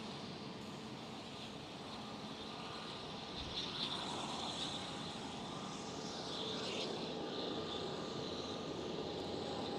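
A KLM Cityhopper Embraer E195-E2 jet airliner at Amsterdam Schiphol gives a steady broadband jet roar at moderate distance, swelling slightly midway and staying even throughout with no voices.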